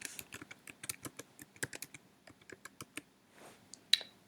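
Rapid, even keystrokes on a computer keyboard as a single word is typed, close and crisp clicks in a steady run with a final firmer key press, no voices.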